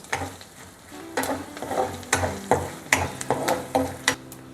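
Lentils frying with turmeric in a home kitchen pan give a soft continuous sizzle, broken by repeated clacking stirs of a utensil in a steady rhythm, close and alone.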